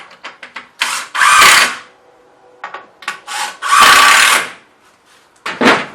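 A power drill drives screws into wooden legs for a model railway layout, with loud whirring bursts of about a second each, separated by short clicks and handling noises, recorded close up with no speech.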